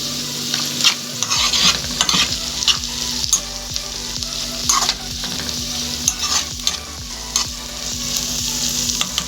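Soy chunks fry with diced potato, onion and bell pepper in a pan as they are stirred, giving a steady sizzle with repeated scraping stir strokes close by and no talk.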